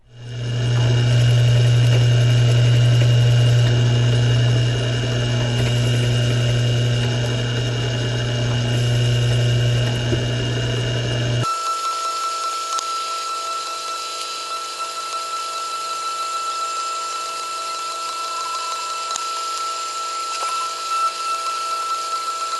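An engine turning machine cutting a decorative pattern gives a loud steady mechanical hum with a strong low drone, which cuts off partway through and leaves a thinner high whine, running without talk.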